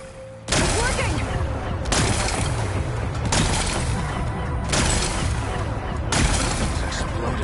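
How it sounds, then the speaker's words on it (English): Weapons fire blasts away rocks to expose a power cell in the video game Horizon Forbidden West, several loud booming explosions striking at roughly regular intervals, each followed by crumbling rubble and rumble. "Gotta blast away some rocks, so I can expose the power cell."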